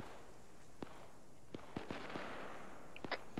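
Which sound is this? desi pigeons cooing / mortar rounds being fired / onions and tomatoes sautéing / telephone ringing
mortar rounds being fired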